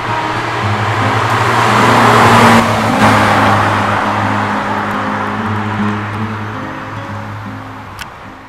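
An Audi TTS Roadster engine rumbles loudly from inside the cabin, revving up as the car accelerates, with rising engine tones and steady road noise.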